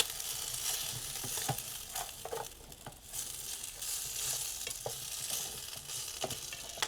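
Food browning in a mess kit cooked over fuel, a soft crackling sizzle with scattered sharp ticks and scrapes of stirring, close but moderate in level, no talking.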